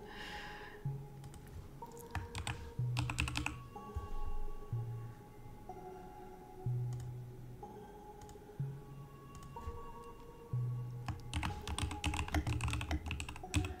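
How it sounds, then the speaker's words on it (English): Loud clicky mechanical computer keyboard typing in bursts of rapid keystrokes with short pauses between, close and alone over a faint steady background hum. "You hear my loud clicky keyboard."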